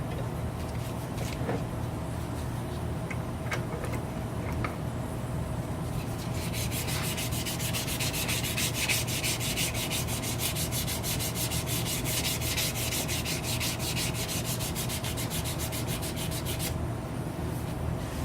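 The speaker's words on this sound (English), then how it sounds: "Keep changing out your sandpaper, because it'll be a heck of a lot easier." A wooden chef knife handle is sanded by hand with sandpaper, a continuous close rasping rub that turns into fast, regular back-and-forth strokes midway through and then eases off near the end.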